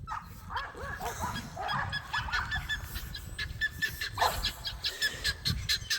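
Guinea fowl squabble noisily on a farm, giving repeated harsh honking calls in a busy overlapping chatter, with what sounds like barking mixed in.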